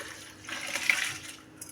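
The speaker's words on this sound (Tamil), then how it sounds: "ஒரு கப்பு தண்ணி ஊற்றப்படுறேன்" A cup of water is poured into a pot with soaked basmati rice for vegetable biryani, making a short, soft splashing gush close by that swells and fades within a second or so.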